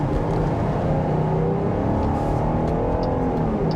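A 2022 Jeep Grand Cherokee L Summit accelerates hard, its engine roaring steadily and loudly from inside the cabin, with dense road and engine noise throughout and no talking.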